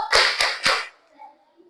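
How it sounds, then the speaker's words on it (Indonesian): A class of children clapping together in a fractions clapping game: three quick, loud bursts of hand claps in a rhythmic pattern, followed by a brief quiet tail with faint murmuring. "sekarang tepuk bareng-bareng, yo. Tepuk pecahan."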